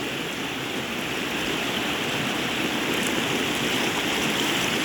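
Floodwater flows fast and evenly all around, a steady, dense rushing hiss without pause, fairly loud and close, with no voices.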